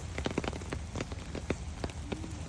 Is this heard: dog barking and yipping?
no